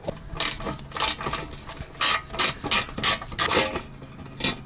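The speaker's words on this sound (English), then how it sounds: "So now it's time to move over to the flex ratcheting wrench." Rapid clicking and rasping strokes of a flex ratcheting wrench as bolts are loosened during a spark plug change on a Daihatsu Hijet kei truck. The strokes come in uneven bursts, close up, with no voices.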